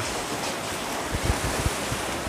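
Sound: sea waves at the beach

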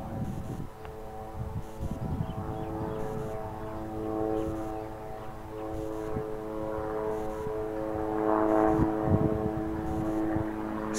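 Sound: helicopter flying

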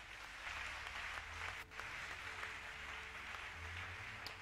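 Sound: congregation clapping

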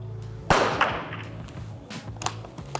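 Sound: biathlon rifle shot

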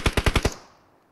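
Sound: M4 rifle gunfire in video game PUBG Mobile

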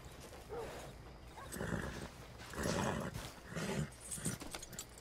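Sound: Arabian thoroughbred horse whinnying in video game Red Dead Redemption 2

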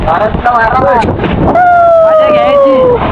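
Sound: strong wind

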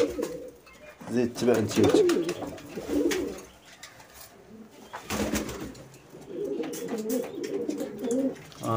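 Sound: pigeons cooing and flying

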